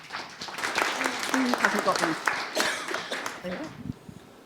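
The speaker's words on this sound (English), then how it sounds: "So would you give a warm round of applause for this panel?" Audience applause for a conference panel at a social economy showcase, scattered clapping mixed with talking and movement nearby, fairly loud and uneven rather than a dense ovation.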